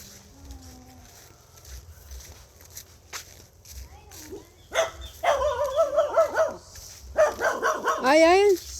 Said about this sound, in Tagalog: Oh my God, may aso.